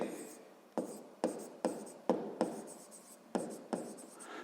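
Pen writing out a math proportion on paper, with a close scratchy stroke followed by short pauses, repeated about eight times.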